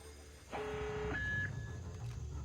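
An alarm sounds in the stealth video game Splinter Cell Pandora Tomorrow, a sustained electronic tone that cuts in abruptly and holds, then shifts to a higher tone before fading under low game ambience.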